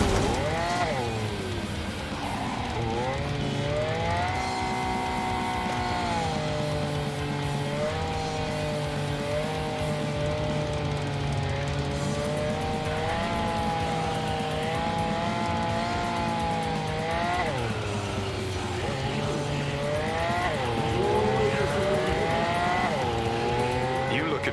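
A fast car driven hard in the game Cyberpunk 2077: a loud, continuous engine whine that climbs and dips with gear changes and throttle, with hints of tire squeal, heard alone throughout.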